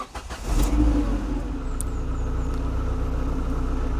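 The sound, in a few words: 90s hatchback car engine starting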